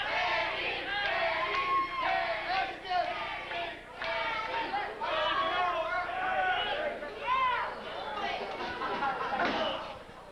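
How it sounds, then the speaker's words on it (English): Wrestling crowd at a Regional Championship Wrestling event chanting for a wrestler, a loud sustained roar of voices with rising and falling shouts filling the arena. "The crowd is chanting for Danny."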